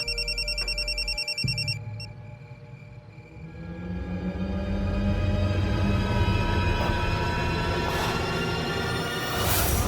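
A telephone rings with a steady electronic trill at the start, then breaks off as a low, swelling dramatic music bed fades in and builds, in a Hindi TV drama.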